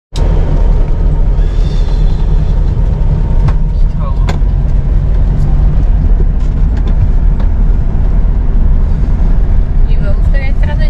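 A Volkswagen Beetle (Fusca) drives along a road, its engine and road noise forming a steady, loud rumble that runs throughout, with a few brief knocks and rattles along the way.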